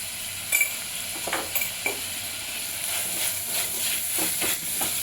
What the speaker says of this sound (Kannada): ಟೊಮೊಟೊ ಆ್ಯಡ್ ಮಾಡ್ತಿದ್ದೀನಿ. ಚೆನ್ನಾಗಿ ಫ್ರೈ ಮಾಡ್ಕೋಬೇಕು.